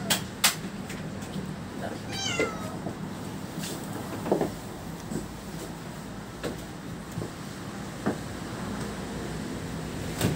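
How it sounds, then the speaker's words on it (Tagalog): A cat gives a short, clear meow early on, against a background of room noise, scattered knocks and people talking. "Nandiyan yung pusa eh."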